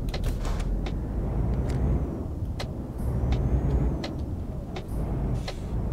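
Iveco truck hauling a double trailer in Euro Truck Simulator 2, a low rumbling engine drone with mechanical creaks and short hissing air-brake bursts, steady and close, with no talk.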